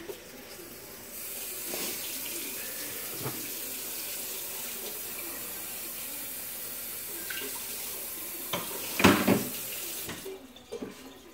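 Water runs steadily from a kitchen tap beside a gravy pan on the stove, a continuous hiss with a few louder splashes and clatters near the end as the flow is caught.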